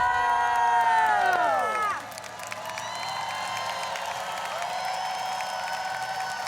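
Rose Bowl stadium crowd cheering for the Oregon–Ohio State game, a loud, continuous wash of voices and whoops that drops to a lower sustained roar after a couple of seconds, while a descending musical sweep plays over it.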